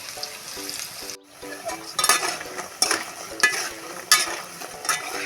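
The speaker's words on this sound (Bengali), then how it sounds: "আমি এটা কম কম করে ভাজবো দিয়ে দেবো তেলের মধ্যে" Baby corn fries in hot oil in a wok, a constant crackling sizzle broken by loud, repeated scraping strokes of a spatula, close up with no voices.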